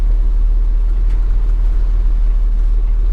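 A 1985 GMC C1500 Sierra pickup rolls down the road, heard from inside as a steady, loud low-frequency engine and road rumble with no talking.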